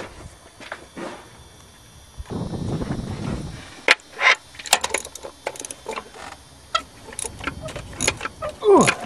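Mechanical work on the engine of a 1997 Lincoln Continental as a spark plug is pulled: a low rumble of handling, then a series of sharp metallic clicks and clanks of tools and parts, close and irregular.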